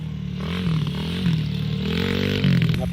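A 125cc big-wheel pit bike ridden as a dirt bike gives a buzzing, throaty engine note that rises and falls in short revving surges, loud and close, with no talk.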